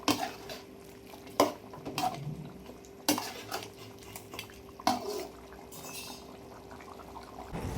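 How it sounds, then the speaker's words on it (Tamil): Duck curry stirred in a pan, with a metal spoon scraping and knocking against the pan in irregular clinks and sharp strikes over a soft background, no one talking. "வேகிற வரைக்கும் கொஞ்சம் கிளறி விட்டே இருக்கணும்."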